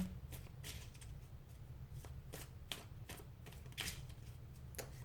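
Tarot cards being drawn and shuffled from a deck during a card reading, with repeated soft papery flicks and riffles in an irregular rhythm over a low steady hum, close and fairly quiet.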